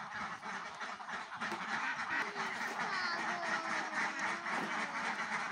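Khaki Campbell ducks let loose on a farm quacking in a steady, crowded chorus that runs throughout, moderately near and without talk.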